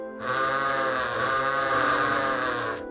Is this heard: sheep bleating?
yes